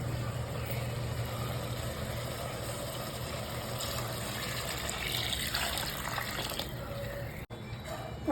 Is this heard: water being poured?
yes